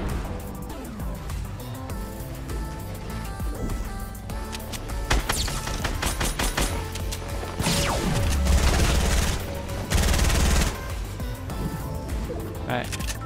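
Rapid bursts of heavy assault rifle fire in Fortnite Battle Royale, loud and close, mixed with other game effects like crashes and impacts under music-like layers.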